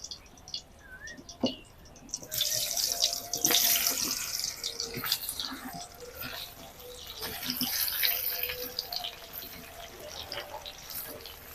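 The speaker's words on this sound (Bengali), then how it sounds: "আমগুলোকে আমি একটুখানি তেলে এইভাবে ভেজে নিব" Raw mango pieces drop into hot mustard oil and start frying, with a loud, steady sizzling hiss that swells and eases over faint kitchen clatter.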